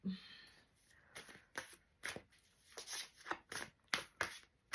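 Tarot-style cards are shuffled close up for a reading, with a series of crisp riffling bursts at a steady, uneven rhythm in a quiet room.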